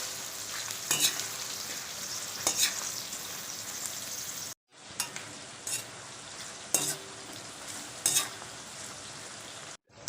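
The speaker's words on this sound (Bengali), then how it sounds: "পেঁয়াজ কুচে সেটা দিয়ে দিলাম। পেঁয়াজটা ভালো করে ভাজা করতে হবে।" About 400 to 500 grams of chopped onions frying in oil for chicken biryani, a steady close sizzle broken by several sharp bursts as the onions are stirred, with a brief pause partway through.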